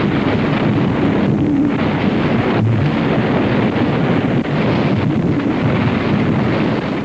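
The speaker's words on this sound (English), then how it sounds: "The audio you heard was the actual recording of tornadoes on the ground" Roaring, rumbling wind from tornadoes on the ground in Oklahoma, a loud, continuous broadband blast buffeting the microphone for several seconds with no voices.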